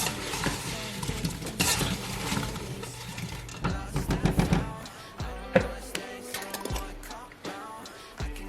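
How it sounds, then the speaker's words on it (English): An apple cobbler mixture made with Crown Royal apple whisky and sugar is stirred in a bowl, giving continuous scraping, clattering strokes with irregular knocks throughout, fairly close and with no voice over it. "I'm gonna throw some of that in there. Mix it all up."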